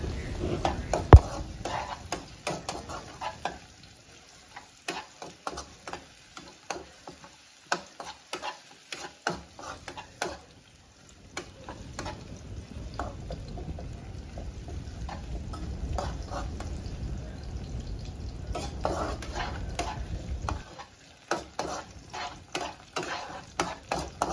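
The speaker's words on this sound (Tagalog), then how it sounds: "igisa natin guys or stir fry natin yung ating bawang" Garlic being stir-fried in a pan as the base for chicken tinola, with scraping and stirring clatter over a soft sizzle that thins out midway and then builds into a steady fry.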